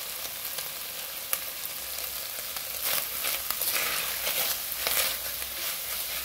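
Chopped onion frying with bacon in a pan for a salt cod rice dish, a steady close sizzle with a few sharp clicks and light stirring scrapes, no talking.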